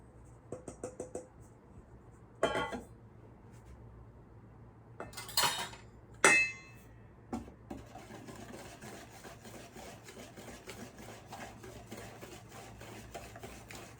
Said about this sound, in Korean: 준비된 가루를 넣고 한번 저어보도록 할게요